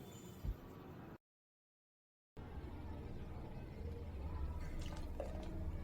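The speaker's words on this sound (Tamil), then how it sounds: "அரைச்ச ஜூஸை வடிகட்டியில் சேர்த்துட்டு ஜூஸ் மட்டும் தனியாக வடிகட்டி எடுத்து வச்சுக்கோங்க" Ground green grape juice for grape halwa drips and trickles through a strainer, a soft, faint liquid patter that continues steadily on either side of a brief silent gap.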